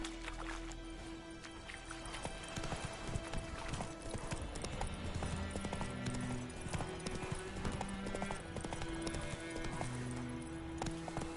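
Roach, Geralt's horse in The Witcher 3 on PS5, gallops with a fast, steady clip-clop of hooves heard fairly quietly beneath soft sustained game music.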